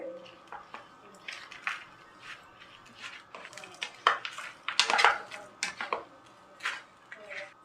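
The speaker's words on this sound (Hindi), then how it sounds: "अब चीनी, गुड़ और कच्ची कैरी को अच्छी तरह से मिक्स कर देंगे।" Sugar, jaggery and chopped raw mango stirred together in a pot for a sweet-sour chutney, with irregular clinks and scrapes of a spoon against metal, some sharp and close, over a quiet background.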